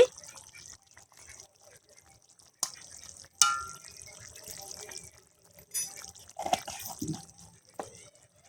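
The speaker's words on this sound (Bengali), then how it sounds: "এবারে আমি উপর থেকে দিয়ে দেব হাফ চামচ ঘি" Half a spoon of ghee drips onto a potato and cauliflower curry in a few quiet, scattered wet drops and short trickles, with faint background murmur.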